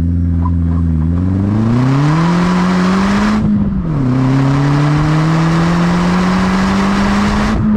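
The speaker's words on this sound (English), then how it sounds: "Let's do a quick pull and see how the engine feels and does." A VW Golf GTI Mk4 with a 1.8 engine pulls hard through the gears, its loud, close drone climbing steadily, dipping at a shift and rising again with no talking.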